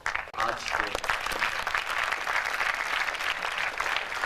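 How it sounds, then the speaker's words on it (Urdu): An audience applauds in an assembly hall, a dense, steady patter of many hands clapping that runs throughout, with voices talking briefly at the start. "اس ایوان میں جتنی بھی تالیاں بجی، ہر تالی ایک جذبہ ہے"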